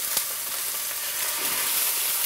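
Red mullet fillets frying in olive oil in a Tefal pan, giving a steady, dense, close sizzle that holds evenly throughout without any talk.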